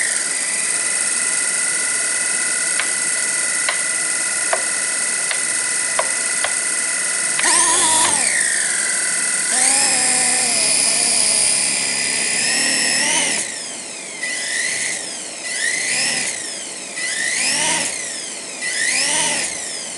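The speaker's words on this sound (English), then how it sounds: "I don't know what's wrong with my helicopter. But it's not happy, I know that. And it's got a really bad vibration." A radio-controlled helicopter with a bad vibration whines loudly and close, its high motor pitch rising and falling in repeated swoops and wavering as it runs unevenly.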